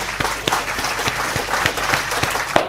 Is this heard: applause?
yes